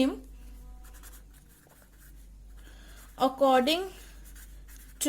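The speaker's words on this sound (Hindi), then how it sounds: "किसी और पेन से लिखते हैं ये" A pen scratches across a board during a class 11 chemistry lecture on the Thomson atom model, with steady close strokes before a teacher's voice briefly cuts in.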